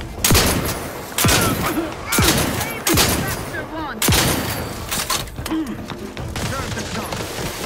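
Gunfire from the video game The Outer Worlds 2 comes in loud, repeated bursts of shots with short gaps between volleys. Character voices speak between and under the shooting.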